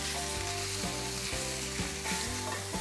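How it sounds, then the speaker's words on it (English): Lobster meat fries in olive oil with garlic, a steady close sizzle with periodic stirring scrapes, no talk. "fry it off in a little bit of olive oil and some garlic"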